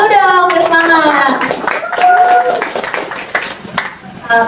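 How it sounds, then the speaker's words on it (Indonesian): At a Gen Z outreach seminar on digital literacy and 2024 election information, an audience claps in quick, uneven bursts, mixed with loud voices calling out and talking nearby. "Tepuk tangan dulu dong, bersemangat."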